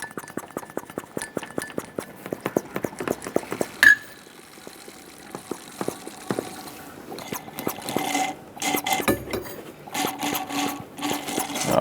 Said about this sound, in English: I'm going to use a vacuum pump with a hose that I can stick down in there and just pull all the fluid out